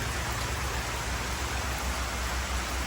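Monsoon rain falls steadily outdoors at a house construction site in Punjab, a continuous even hiss of moderate loudness with no talk and no distinct drops standing out.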